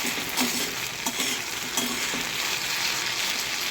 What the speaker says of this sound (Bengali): একটু কড়া করে ভেজে নেবেন, জল ছাড়া ভেন্ডি ভাজা